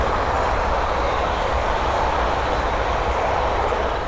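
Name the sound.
pair of Class 350 electric trains passing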